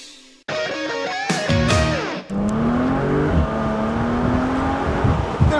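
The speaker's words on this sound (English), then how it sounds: "A little acceleration in this car." A 2010 Audi S5 Cabriolet with a raspy V6 exhaust accelerates hard, its engine note rising through gears with brief shift dips, loud and close throughout.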